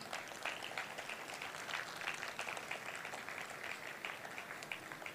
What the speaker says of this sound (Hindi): अंकिता के लिए जोरदार तालियां।